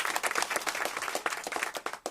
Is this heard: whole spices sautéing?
no